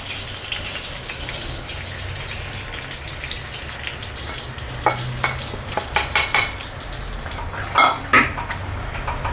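Gram flour stirred into hot ghee in a pan for Gujarati mohanthal, with a steady soft sizzle under scraping stirs and a few sharper clinks of the spoon against the pan near the end.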